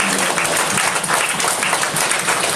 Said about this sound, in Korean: 우리 처음 오신 분, 오랜만에 교회에 오신 분들 우리 힘찬 환영의 박수로 한번